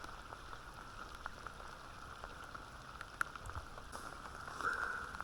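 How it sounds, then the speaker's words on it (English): Steady, dense torrential rainfall on a sailing boat hisses across the whole clip, with scattered drops pattering on a surface close by and no voices. "That's the sort of rain that is here for the day"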